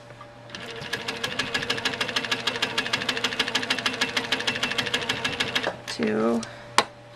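A sewing machine quilts shallow curves with a ruler grip pressed on the fabric, running in a steady rapid stitching rhythm for about five seconds, then stopping before a brief clunk and a short vocal sound.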